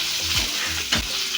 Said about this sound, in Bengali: পেঁয়াজটাকে তেলের সাথে নাড়াচাড়া করে ভেজে নেব